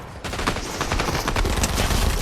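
Rapid video game gunfire rattles in a continuous burst, loud and close, with overlapping shots and no talking.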